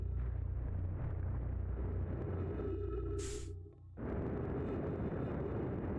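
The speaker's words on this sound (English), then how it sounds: "I think the ship exploded." A spaceship explodes in a video game with a deep rumbling blast that holds steady, briefly drops away with a short bright burst, then returns as a sustained low roar, with no voices.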